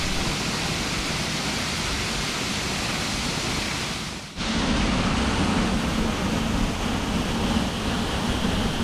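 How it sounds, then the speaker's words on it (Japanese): Oga Big Falls on the Nomura River in Akita, Japan, pours from a hole in the rock with a steady, dense roar of falling water. The roar dips briefly near the middle, then returns slightly fuller and continues alone. "ぽっかりと開いた穴から流れ落ちる男鹿大滝"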